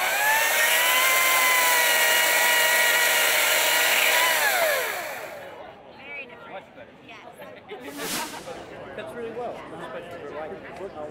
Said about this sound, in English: We're here to try the new 40-volt Ryobi 14-inch chainsaw.